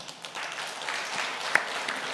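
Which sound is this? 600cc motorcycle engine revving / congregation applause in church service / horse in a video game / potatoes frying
congregation applause in church service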